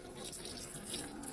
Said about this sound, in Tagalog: Yan, lagyan ko siya ng tubig.